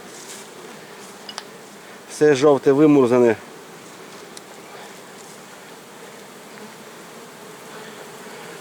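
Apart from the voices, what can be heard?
honeybees buzzing at apiary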